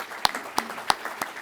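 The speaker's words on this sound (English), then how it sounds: "So a round of applause for our families, please." An audience at an Air Force undergraduate pilot training graduation gives a round of applause. It comes across as a few sharp, evenly spaced claps that are close and distinct rather than a full roar.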